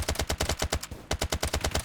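Rapid automatic gunfire in the video game Apocalypse Rising 2 crackles in two tight bursts of evenly spaced shots, loud and sharp, broken by a brief pause, with no talk.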